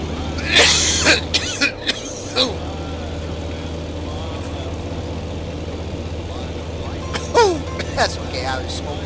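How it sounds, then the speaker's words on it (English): A few sharp coughs over a steady low engine hum, with a throat-clearing sound and muffled talk nearby. "I was smoking and coughing"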